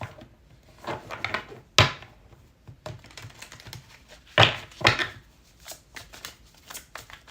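A deck of tarot cards is shuffled up close in a series of uneven rustling, slapping bursts with short pauses between them, with no voices.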